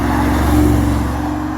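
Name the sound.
Mercedes G-Wagon driving in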